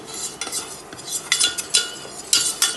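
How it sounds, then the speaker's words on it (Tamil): Ingredients frying in a pan for tomato soup, with a soft sizzle under clinking, scraping stirs of a metal spoon in irregular bursts, close by, with no talk. "வறுத்துக்கோங்க முதல்ல கொஞ்சம்."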